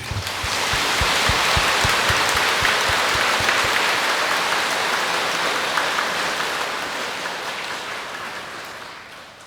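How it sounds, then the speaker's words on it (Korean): Loud burst of applause from a temple congregation during a Buddhist Dharma talk at a Seon center, swelling quickly and then slowly fading out over several seconds. "그렇게 하겠다고 마음을 먹은 분은 박수를 치십시오"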